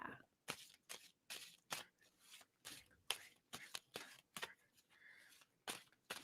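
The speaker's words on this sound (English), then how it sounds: "And I'm going to stop shuffling." Tarot cards being shuffled by hand, a quick series of crisp riffling bursts in an irregular rhythm, close and fairly quiet.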